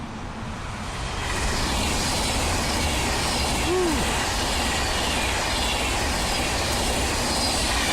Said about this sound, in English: Now here comes the Intercity train.